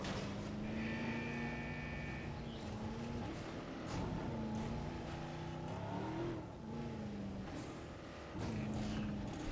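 A car drives through a desert park in Jurassic World Evolution, its engine humming and revving at a steady mid level, with faint animal calls in the background.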